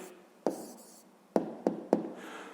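A pen writes on paper while someone works out the answer to a fifth-grade maths exercise: a few short, crisp strokes up close, separated by quiet pauses, with no talking.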